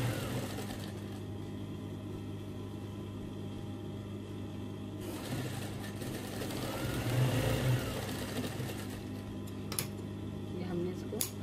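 An electric sewing machine stitches the shoulder seam of a gents kurta, its motor running as a steady, close hum that swells briefly midway, with a voice faintly present.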